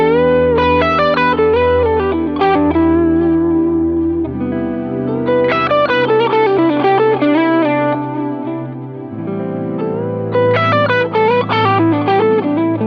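Distorted electric guitar plays a pentatonic blues phrase over shifting chords, with effects-laden tone and repeated lick phrases rising and falling, loud and steady without any voice.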